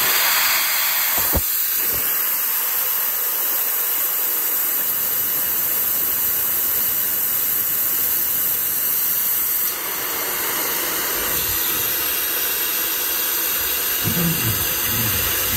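Loud, steady rush of compressed air venting from the release valve of a Vevor 5-ton pneumatic jack, a broad continuous hiss that fills the whole stretch with brief shifts in tone.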